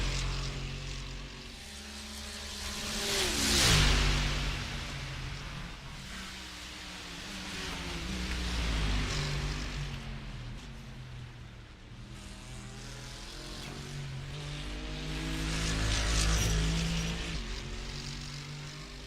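GT3 race cars at the Nürburgring 24 Hours roar past in turn, their engine notes rising and falling as two loud passes swell around the fourth and sixteenth seconds over a continuous distant drone.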